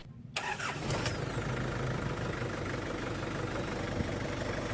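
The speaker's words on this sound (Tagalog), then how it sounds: "Start ko muna itong makina." An Isuzu Trooper diesel engine cranks briefly and catches, then settles into a steady, loud, close idle rumble with no talk.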